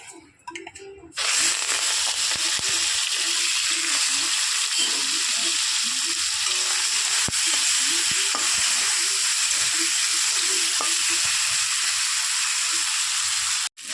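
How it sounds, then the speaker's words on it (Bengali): Prawns coated in turmeric and salt frying in oil in a wok, a loud continuous sizzle with faint scraping and clinks throughout, after a brief quieter moment at the start; no voices. "চিংড়ি মাছ আমার এখানে ভাজা হয়ে গেছে,"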